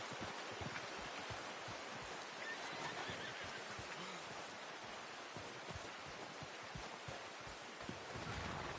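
A horse in a Wild West video game whinnies amid steady broadband ambience, with soft rustling and faint hoof-like thuds underneath; no one speaks.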